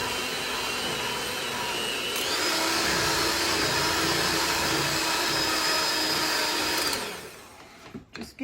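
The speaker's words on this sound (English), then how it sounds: "This mixer is so powerful." A powerful electric mixer beats chocolate cream cheese pound cake batter with a loud, steady motor whir that rises slightly in pitch partway through, then winds down and stops, leaving a few faint clatters.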